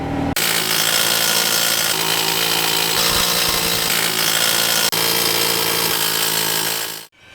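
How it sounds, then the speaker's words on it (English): A needle gun descaling a boat in a boatyard in Trinidad, a loud continuous rattling hammer roar held steady for about seven seconds with two tiny breaks, then stopping abruptly. "I'm just going to attack it with a needle gun"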